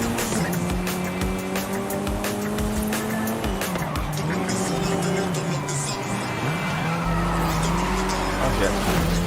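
Car in Forza Horizon 5 slides sideways with sustained tire squeal over a loud, steady race engine whose pitch rises and drops through gear changes, with someone talking over it.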